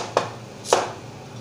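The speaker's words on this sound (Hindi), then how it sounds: "और प्याज कर लेंगे कटिंग, इसको भी ऐसे डायमंड कटिंग कर लेनी है" A knife cutting onion into diamond-shaped pieces on a board, two sharp, close chops about half a second apart, alone and without talking.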